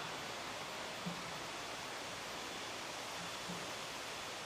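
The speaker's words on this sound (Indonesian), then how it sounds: "Kalau menuju semakin ke bawah itu ada aliran sungai teman-teman." A river flows below a historic bathing site at Ngawonggo, heard as a faint, even rush of water with a couple of soft bumps and no voices.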